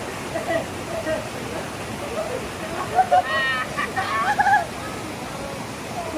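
Mountain river water rushes steadily during a crossing on a trail up Mount Gandang Dewata, a loud continuous roar with occasional sloshing splashes close by as people wade through it.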